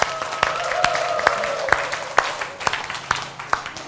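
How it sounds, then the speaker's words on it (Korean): Scattered, moderately loud claps with a few sharp distinct hand strikes stand out over a thinner applause wash from an audience at a Korean lecture, while a low hum sits underneath. "큰 박수 쳐주세요"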